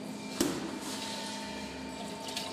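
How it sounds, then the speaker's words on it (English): Salt water pours steadily into a salt spray corrosion testing chamber, a continuous close rushing and filling hiss with a brief knock near the start and a low machine hum underneath. "Now we add the salt water."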